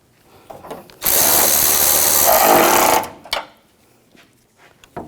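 A power tool snugs down screws on an AC liquid line assembly of a 2006-2010 Hummer H3 3.7L, one loud steady whirring burst of about two seconds, followed by a thump and a few faint handling noises.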